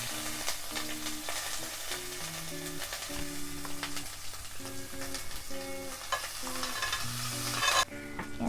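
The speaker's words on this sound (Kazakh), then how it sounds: "Сарымсақтарымыз қуырылып жатыр." Garlic fries in butter in a pan, a quiet crackling sizzle with frequent stirring taps and scrapes close by, running beneath background music with no one talking.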